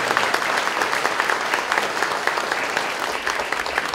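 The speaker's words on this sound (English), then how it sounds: "So let's have a nice round of applause for all of our guests." Steady, dense applause from a seated audience at a Pleasanton senior center event honoring guests, sustained at an even level throughout with no pauses.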